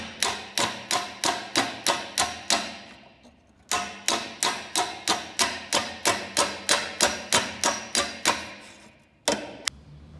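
Hammer blows ring out on a sheet-metal patch on a car body, with a heavy curved dolly held behind the panel. Evenly spaced, loud, sharp strikes repeat rapidly, pause briefly, then resume, with two final blows near the end.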